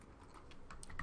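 A handful of quiet, close keystrokes tap on a computer keyboard as a command is typed into a terminal, soft and brief with no voices.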